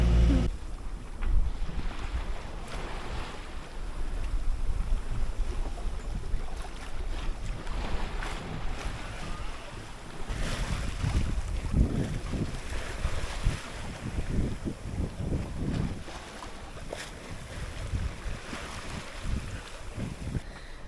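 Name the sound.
sailboat sailing on the Pacific coast of Baja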